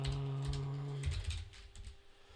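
Typing on a computer keyboard: a quick run of soft, close key taps over a steady low electrical hum that drops away midway.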